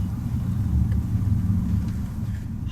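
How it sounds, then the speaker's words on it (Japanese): A 2024 Nissan X-Trail descends a steep, snowy slope with its foot brake mechanism slowing the car. A continuous low rumbling grind rolls steadily beneath the cabin. "音がしているのはフットブレーキの機構を使って速度を下げている"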